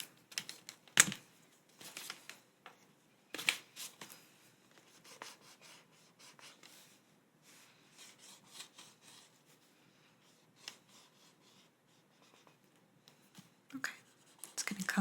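Marker strokes drawing stars on a whiteboard in a quiet, close-up setting: soft intermittent rubbing and squeaky scratches come in short bursts with pauses between, and no one speaks.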